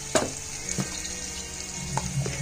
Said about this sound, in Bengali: এখানে পেঁয়াজ ভাজতে রেখেছি